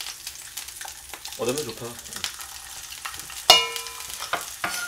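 Food frying and being stirred and flipped in a pan during home Korean cooking of a chicken breast steak, steady sizzle with scraping stirs and a sharp clatter midway, brief speech over it.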